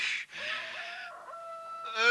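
Chickens and a rooster in a coop make a few drawn-out, tonal crowing and clucking calls with short breaks between them, fairly close and clear.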